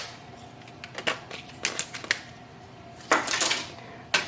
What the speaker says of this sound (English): Take your new ink toner, take it out of the plastic packaging and remove this seal.